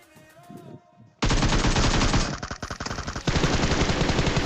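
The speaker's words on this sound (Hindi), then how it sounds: "दोनों ने फायर किया था मेरे ऊपर डायरेक्ट" In the video game PUBG Mobile, loud, rapid automatic gunfire bursts in up close after a brief quieter moment, with dense rattling shots that briefly ease and then resume.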